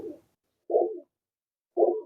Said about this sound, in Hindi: 22 नंबर हमारे कबूतर हैं, टैडी कबूतर।